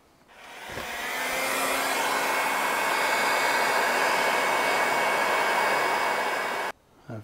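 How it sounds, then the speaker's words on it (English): A heat gun blowing hot air in one steady, loud, close whoosh lasting several seconds before cutting off, used on a Yamaha RD400 motorcycle part being bent. "Let's get the heat gun."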